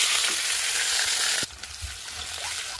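Ginger and green chillies sauté in a hot pan for veg kuruma, a loud, steady frying sizzle that drops in level partway through, with light stirring clicks and no talk.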